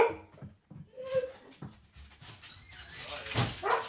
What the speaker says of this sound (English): I knew it was a mistake having the dog hang out with me in here.